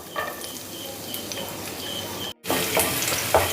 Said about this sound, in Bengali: রসুনটা আমি একটু ফ্রাই করে নেব।